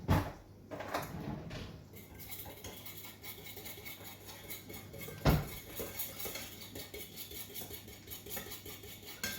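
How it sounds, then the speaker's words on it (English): A fork rattles and scrapes quickly inside a metal bowl while a vinaigrette is whisked, with quiet, steady clinking and one sharper knock partway through. "you can probably hear me whisking a fork against the metal bowl"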